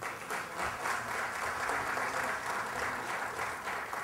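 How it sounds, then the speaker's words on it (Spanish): Steady applause from an audience at a human rights event on personal data protection in Mexico City, sustained and even in loudness across the whole stretch without a break. "para quien les pido un fuerte aplauso"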